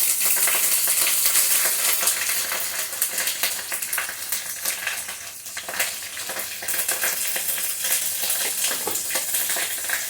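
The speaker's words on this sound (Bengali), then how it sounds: "সবগুলি মশলা একটু কষানো হলো" Ground spices with a little sugar, black pepper and turmeric sauté in a pan for a vegetarian mock-egg curry, a continuous bright sizzle broken by scraping stirs and small clicks, close by and with no talking.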